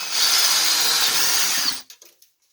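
A power drill with a 3/8 bit bores a hole through a wooden form with a loud, close, steady whine, then cuts off and leaves a few small knocks and clicks as it winds down.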